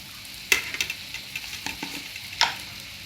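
Sausages sizzling in a pan with chili pieces added, a soft steady frying crackle broken by several sharp stirring scrapes and clicks, close and moderately loud.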